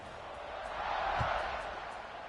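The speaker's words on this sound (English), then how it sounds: "this crowd is buzzing after that last score" Stadium crowd at a USC vs Arizona State football game after a touchdown, a steady distant buzzing roar that swells slightly and stays constant underneath.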